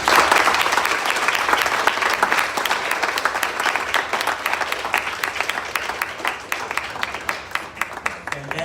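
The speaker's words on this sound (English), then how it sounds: "Can we have a big round of applause for Samah?" Audience applause breaks out after a talk at a debut song event, a dense, steady wash of many hands clapping that carries on for several seconds and thins a little toward the end, with no voices over it.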